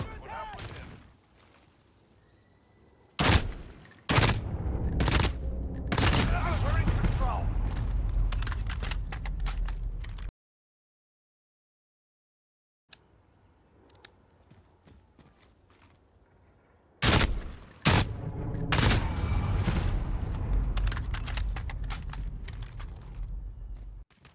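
Kilo 141 and M4A1 rifle fire in the Modern Warfare video game, testing point-blank kills: loud bursts of shots in two groups separated by a silent gap, with sharp crack transients over game ambience.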